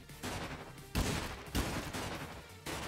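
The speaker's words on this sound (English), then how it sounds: "How many fucking shots?" First-person shooter video game gunfire: several loud, close shots, each a sharp crack with a decaying tail, spaced irregularly across a dense game soundscape with no talking.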